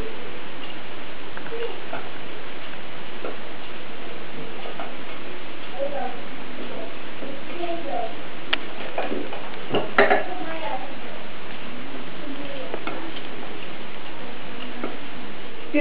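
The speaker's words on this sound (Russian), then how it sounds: "И два зубчика чеснока. Нужно мелко покрошить сюда." A knife finely chops two garlic cloves on a board for aioli sauce, giving light, faint tapping clicks that cluster in short runs.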